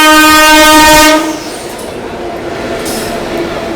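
The Grand Trunk Express from New Delhi to MGR Chennai Central passes, hauled by a WAP-7 electric locomotive from the Royapuram shed. A loud horn blast opens, then the rushing rumble and clatter of the train carries on close by.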